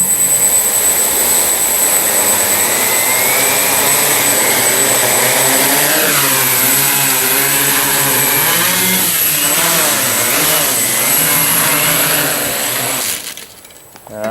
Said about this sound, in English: Motor orientation seems correct.